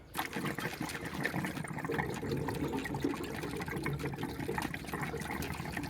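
Water draining and trickling out of the internal check valve on a Navien NPE series tankless water heater, a steady continuous splashing flow that runs close by for the whole stretch.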